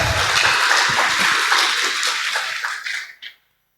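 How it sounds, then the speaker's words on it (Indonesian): Audience applause at an Indonesian talk event, dense close clapping that holds steady for about three seconds, then thins out and stops. "tepuk tangan untuk teman-teman semuanya"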